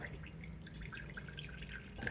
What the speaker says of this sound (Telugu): ఈ కొన్ని నీళ్ళు వచ్చి ఉంటాయి కదా ఈ నీళ్ళను వంచేద్దాం